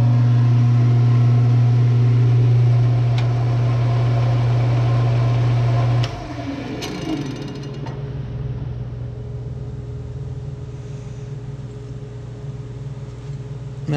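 A lathe spins a tube-in-label cast pen blank to dry CA activator, giving a loud, steady motor hum that drops in level and shifts pitch about halfway through, then runs on more quietly.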